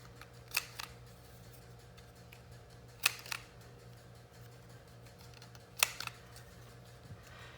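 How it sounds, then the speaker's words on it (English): A quarter-inch corner rounder punch clipping paper corners for a handmade shabby journal, three separate sharp crisp clacks spaced a few seconds apart over a quiet background. "we'll corner round with the 1/4 inch corner rounder"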